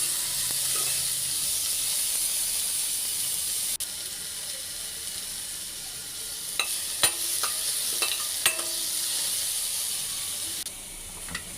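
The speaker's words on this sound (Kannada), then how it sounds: "ಉದ್ದುದ್ದಾಗಿ ಹೆಚ್ಚಿಕೊಂಡಿರುವ ಒಂದು ಟೊಮೆಟೊನ ಈಗ ಸೇರಿಸ್ತಾ ಇದ್ದೇನೆ. ಇದನ್ನು ಕೂಡ ಸ್ವಲ್ಪ ಸಾಫ್ಟ್ ಆಗುವವರೆಗೂ ಫ್ರೈ ಮಾಡ್ಕೊಳ್ಬೇಕು." Lengthwise-sliced tomato fries in a pan for a quick dal, giving a steady, hissing sizzle with a few sharp clinks and scrapes of stirring toward the end and no talking.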